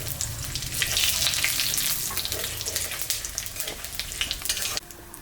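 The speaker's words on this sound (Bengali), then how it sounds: "তেলের উপরে আমি শুকনো লঙ্কা, তেজপাতা আর জিরা সম্বরা দিয়ে দিলাম।" Dried red chillies, bay leaves and cumin seeds hit hot oil with a loud, steady crackling sizzle that fills the pan, then drops off sharply near the end.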